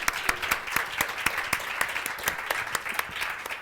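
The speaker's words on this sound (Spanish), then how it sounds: "cerramos con un fuerte aplauso para Olga" An audience gives a strong round of applause for Olga at a cultural talk, with individual sharp claps standing out in a lively, fairly close patter that continues throughout.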